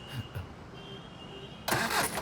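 Vehicle engine cranking and catching suddenly after a quiet stretch, the motor turning over and settling into a loud rough idle close by.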